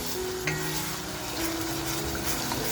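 Homemade masala tadka for mutton frying in a pan, heard as a dense, even sizzle that holds steady throughout, with a faint stirring scrape near the start.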